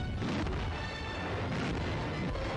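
Naval shellfire from Flak 88 coastal guns, heavy overlapping booms and deep rumbling that roll on without pause, loud and dense throughout.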